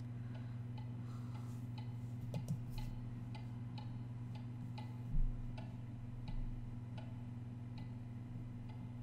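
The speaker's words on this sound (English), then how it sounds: "It's a ticking clock." Steady ticking of a clock in the video game Alice: Madness Returns, even and moderately quiet, over a low droning background hum with a couple of soft thuds.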